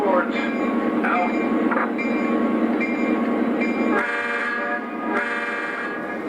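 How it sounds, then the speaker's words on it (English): An O gauge model hopper train moving on a layout, its steady electric motor hum and rolling wheels running continuously, with sustained horn-like tones and a few sharp clicks over the top. "So now we're going to shove the hopper train into a siding"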